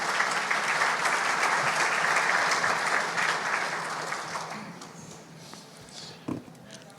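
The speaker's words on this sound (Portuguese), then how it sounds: "uma salva de palmas, doutor Atílio" Audience applause at a dinner debate event with regional mayors, a steady burst of clapping from a crowd indoors that gradually thins and fades out, ending with a few isolated sounds.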